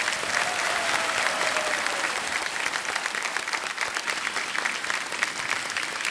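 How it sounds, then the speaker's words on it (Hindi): A studio audience on a televised quiz show applauds, a loud, dense, sustained clapping that fills the whole stretch without a break. "और तालियां बज जाएं इनके लिए।"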